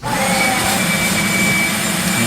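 A household vacuum cleaner runs steadily and loud at close range, a continuous motor whine and airflow roar with no pauses, used while cleaning up old glue and drywall debris around a fireplace.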